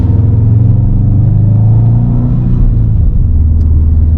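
A 2007 Subaru WRX STI engine rumbles loudly from inside the cabin during a drive, its low throaty note rising and shifting with revs, with no talk.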